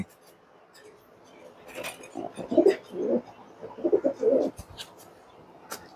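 Low, throaty pigeon coos repeat in short bursts close by, with a few faint bird chirps scattered in the background.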